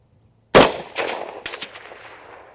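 A single loud, close gunshot from an Egyptian Hakim rifle fitted with a muzzle brake cracks sharply, followed by a second report and a ringing echo that slowly decays.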